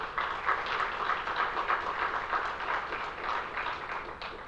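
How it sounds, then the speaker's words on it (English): Applause from a forum audience for the chief guest at a climate action forum opening session, a steady wash of many hands clapping at moderate distance, fairly soft and even throughout. "So guys, please put a big clap for him."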